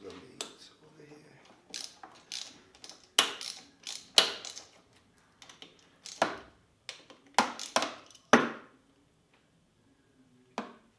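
A ratchet wrench loosens bolts in a workshop, sounding as short bursts of rapid clicking that come in uneven groups separated by pauses, each burst close and crisp.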